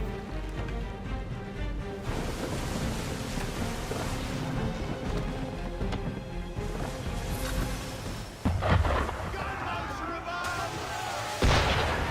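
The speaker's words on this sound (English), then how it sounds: "Why is he shooting at us?" Cannon and gunfire booming at a boat in Assassin's Creed III, heavy repeated blasts and crashes over a dense, noisy battle backdrop.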